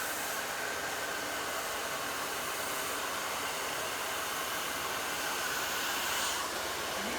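Hair dryer blowing continuously during a round brush blow-dry, a steady airy rushing hiss at moderate level with no breaks and no voices.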